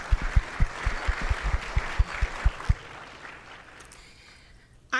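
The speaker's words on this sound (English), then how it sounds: "Let's give them a round of applause." Conference audience at a North Carolina ecosystem summit clapping, with a handful of sharp, distinct claps standing out over softer crowd applause that fades out after a few seconds, leaving quiet room tone.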